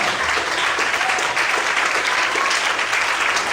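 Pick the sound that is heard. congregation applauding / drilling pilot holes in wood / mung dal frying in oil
congregation applauding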